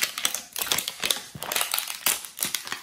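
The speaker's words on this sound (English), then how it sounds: "I'm getting better at zipping these." A plastic LOL Surprise Spring Sparkle toy package is unzipped and pulled open, giving a quick run of crisp, crinkly ripping and rustling bursts close by.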